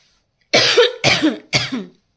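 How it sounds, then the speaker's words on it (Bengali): Three sharp coughs in quick succession, close and fairly loud, with brief pauses between them. "দেখো কাশি হচ্ছে"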